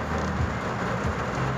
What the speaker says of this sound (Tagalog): Dito lang po ako sa sasakyan at napakalakas po ng ulan.